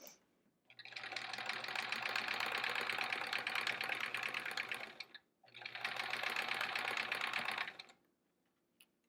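Home sewing machine stitching quilt-as-you-go sashing to join quilt blocks, heard as two long, close runs of steady mechanical whirring and needle clatter separated by a short pause, with no talking.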